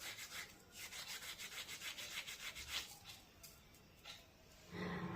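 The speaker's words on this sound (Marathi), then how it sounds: "ओवा हातावर चोळून या पिठामध्ये टाकूया" Carom seeds rubbed briskly between the palms over rice-flour dough, a soft, rhythmic rasping of quick repeated strokes, close and quiet, with no talk.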